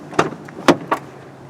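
The rear door of a 2014 Dodge Journey SE 2.4L opens. A close latch click is followed by two sharper clunks of the door hardware, fairly loud with no talk.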